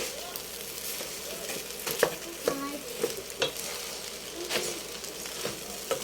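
Spoon stirring leftover fried rice in a wok, a steady scraping and clattering with a faint sizzle underneath and several sharper knocks of the spoon against the pan, close by with no talk.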